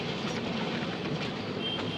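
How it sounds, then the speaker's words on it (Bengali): Vivek Express passenger train running at night, a continuous broadband rumble and rattle heard from inside the carriage, steady and fairly quiet with no distinct clacks. "রাতের অন্ধকারে বস ট্রেন কি টানছে, মারাত্মক লাগছে"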